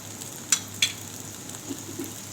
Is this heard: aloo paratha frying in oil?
yes